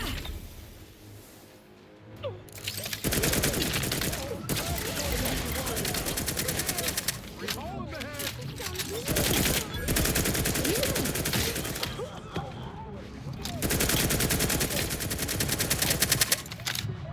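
Sustained bursts of rapid automatic gunfire in The Outer Worlds 2 on Xbox Series X, loud and dense, coming in several long volleys with short gaps between them.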